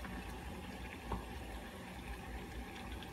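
Water boiling steadily in a pot, used for softening the plastic orange tip of an airsoft gun, giving a constant bubbling hiss with no voices over it.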